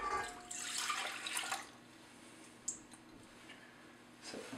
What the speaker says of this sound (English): first you're going to pour in